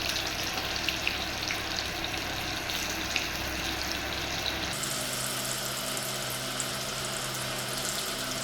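Chicken pieces for Chicken Manchurian fry in a pan with a steady, dense sizzle and crackle, close and continuous, changing slightly in tone partway through.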